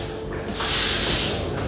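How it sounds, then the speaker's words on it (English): Etch solution sprayed from a 2-gallon sprayer onto an 800-square-foot basement floor makes a steady, loud hiss that swells after a brief quieter start and continues without pause. "We got one gentleman spraying the etch, the 2 gallon etch."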